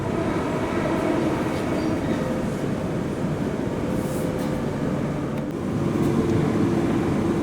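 Steady rolling rumble inside a Melbourne HCMT suburban train travelling from Flinders Street to Dandenong, continuous and fairly loud cabin noise with a few faint clicks, no talking.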